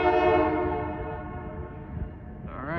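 Freight locomotives of CPKC sound a loud multi-chime horn blast at close range that fades as the units rumble nearer. A second short horn note comes in at the end.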